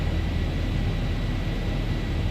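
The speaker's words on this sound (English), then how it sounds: "Initially take off, go around thrust, then climb" In a flight simulator, the jet engines of a KLM Boeing 737-800 run at takeoff thrust, a loud, steady roar with broadband hiss and no talk over it.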